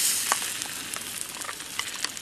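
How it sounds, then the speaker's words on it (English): Onions sizzle and crackle steadily in hot oil in a pan, with scattered pops and spits over a constant frying hiss. "in the pan, I've got a few onions frying away in oil"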